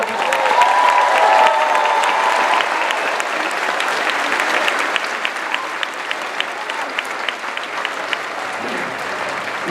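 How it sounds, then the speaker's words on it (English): A large crowd at a high school graduation ceremony claps steadily for close to ten seconds, a dense sustained roar of hands with faint cheers early on, easing slightly toward the end. "Let's all give ourselves a big round of applause"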